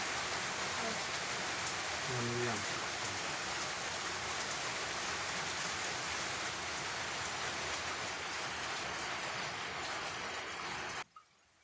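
Steady, dense hiss of rain pouring down without a break, then cutting off abruptly near the end.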